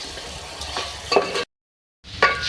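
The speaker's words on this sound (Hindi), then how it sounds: "अब इसको जो है हम भूनेंगे अच्छी तरीके से।" Chicken stir-fries in a pan, with sizzling and spatula scrapes in short bursts, broken by a brief silent gap before the frying resumes.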